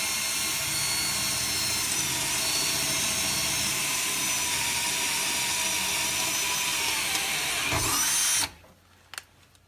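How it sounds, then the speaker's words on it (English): Drilling a center hole in steel with a big drill bit during rust repair on a 1990 Nissan 240SX frame rail, a loud, steady, high whine running close for about eight seconds before it cuts off, followed by a couple of faint clicks. "and then you drill a little center hole."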